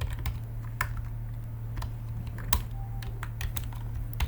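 Steady typing on a computer keyboard with irregular clicks and occasional louder key strikes, close and alone, with no talk.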